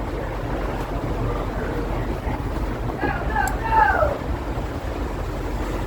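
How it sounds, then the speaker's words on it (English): Strong storm wind of 40 to 50 knots aboard a ship crossing the Antarctic Circle, a constant loud roar and rumble of wind across the microphone with faint shifting tones in the middle. "the winds were 40 to 50 knots"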